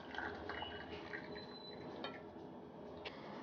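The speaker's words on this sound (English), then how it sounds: "So we'll sieve our kada in the cup." Hot herbal kada poured through a sieve into a cup, a soft continuous trickle and dribble of liquid with faint drips, close and quiet.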